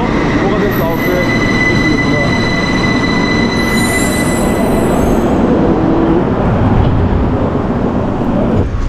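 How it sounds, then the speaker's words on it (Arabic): An Algiers metro train runs loud and close, with a steady rumble of wheels on rail and high squealing tones throughout, no voices over it. "هو هذا المترو وغادي نطلعوا فيه."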